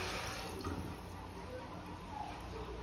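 Water poured into a pot of sautéed rice for Khandeshi khichdi over a lowered gas flame, a steady, close, broadband wash of liquid that runs without pause.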